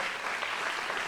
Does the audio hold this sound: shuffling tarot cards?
no